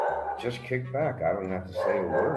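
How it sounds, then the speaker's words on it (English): Dogs bark in the background beneath steady close conversational talk, their yips partly masked by the voices throughout. "sorry about the dogs."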